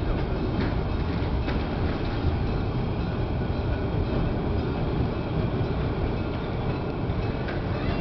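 A steady, broad rumble of a train rolling past, with faint rhythmic clatter from the wheels, continuous and moderately loud throughout, no talking.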